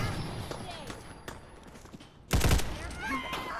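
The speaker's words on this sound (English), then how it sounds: "we're going to try and use flashbangs here, get a little sneak attack going" Flashbang grenades going off in the video game Fallout 4, a sudden loud blast burst after a short lull, preceded by quieter game sounds and layered effects.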